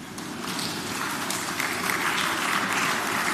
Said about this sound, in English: I thought we would clap for that.